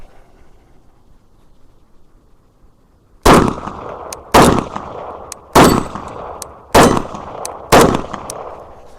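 Five loud, close gunshots from a 10mm pistol fitted with a brace firing range ammo, fired at a steady pace after a quiet start, each crack followed by a short metallic ring and decay.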